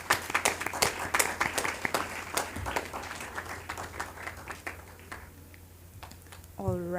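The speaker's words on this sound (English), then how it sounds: "I think we should clap for all the secondary school students here." At a college debate competition, an audience claps for secondary school students, with a lively round of sharp, scattered hand claps that gradually thins out, before a voice begins speaking at the end.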